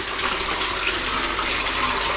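Spawning koi thrashing in a hospital tank, a steady watery rush and splashing, close and continuous without distinct separate splashes.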